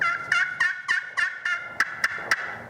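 Vintage turkey call producing a yelp, a loud, close series of about nine evenly spaced, raspy turkey-like notes, the last few sharper and quicker, with no talk.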